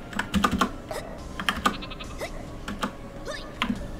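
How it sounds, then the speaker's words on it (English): A cartoon sheep in the Worms artillery video game bleats in short wavering cries, mixed with rapid keyboard typing clicks and game effects. "I'm gonna release a sheep in here."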